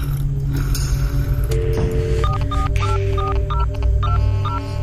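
A telephone is dialed: a quick series of distinct keypad beeps sounds close and clear over a constant low hum.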